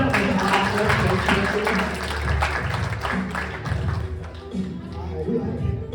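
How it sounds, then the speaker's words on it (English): A high school audience at a stage hypnosis show with hypnotized cheerleaders gives a round of applause, a steady wash of clapping mixed with crowd chatter that swells and then thins out. "Give her a big round of applause."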